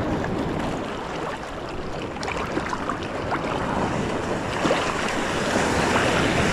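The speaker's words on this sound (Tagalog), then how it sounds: "Ang laki ng mga alon." Big ocean waves crash and roar steadily on Abagatanen beach in Pangasinan, with a broad, continuous wash of surf and wind gusting into the microphone. No one speaks.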